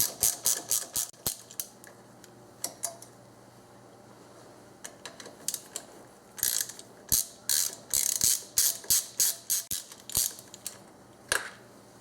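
Ratchet clicking in short bursts while loosening 10mm bolts on a Subaru power steering pump, close and crisp, with pauses between runs of rapid clicks and no talk.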